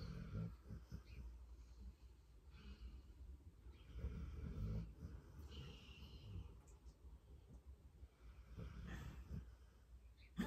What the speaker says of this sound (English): All I can hear is the snoring.